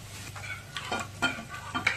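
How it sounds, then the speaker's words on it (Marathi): Spices being sautéed for misal make a quiet, low sizzle broken by several soft stirring scrapes and taps of a spoon in the pan. "2 मिनिटं आपण असेच परतून घेऊया।"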